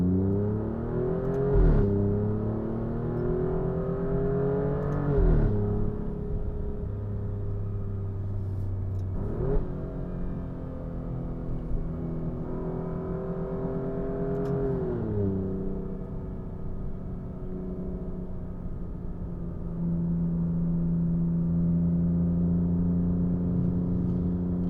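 Alfa Romeo Giulia Quadrifoglio's V6 bi-turbo engine pulling hard through the gears, exhaust opened up by a stainless steel resonator delete, rising revs cut by quick shift breaks, loud and close from inside the car.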